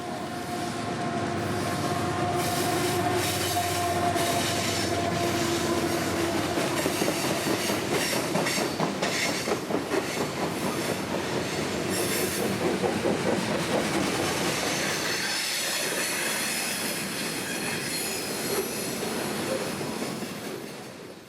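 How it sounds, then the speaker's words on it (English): A loaded CSX coal train from Evansville rounds the bend on the W&A line, a loud continuous rumble with clickety-clack and faint wheel squeal as cars roll steadily past, with no voices. "this loaded coal train is bound for Plant Bowen, just west of Cartersville, along the W&A"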